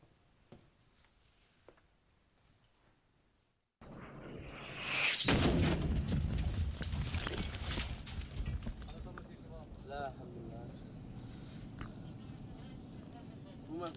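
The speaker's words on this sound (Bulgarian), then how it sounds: "Тази ракета, която едва не уби екипа ни на фронта в Алепо, се оказа българска." Grad rocket fire at the front in Aleppo, Syria, a quiet lull broken by a sudden loud rushing launch and roar that lingers, with voices talking and shouting around it.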